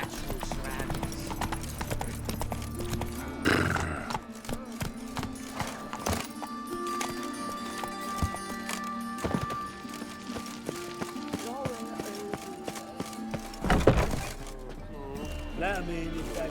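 Hooves of the horse Roach clip-clop along natural ground in The Witcher 3, a steady galloping rhythm with an occasional whinny, while someone speaks over it and game music plays.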